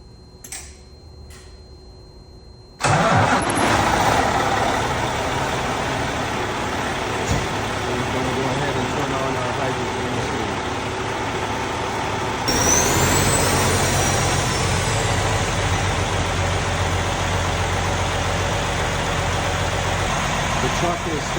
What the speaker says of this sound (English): So now we're starting the truck.